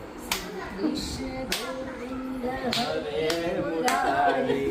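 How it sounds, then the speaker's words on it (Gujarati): Several scattered hand claps at a family gathering in a Surat home, sharp and fairly close, under ongoing chatter and voices. "તાળી પાડો બેટા"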